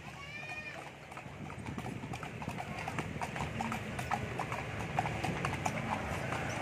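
Horse hooves clip-clop steadily on pavement as a horse pulls an andong carriage in Bukittinggi, West Sumatra, a brisk even rhythm close by over street noise and faint voices.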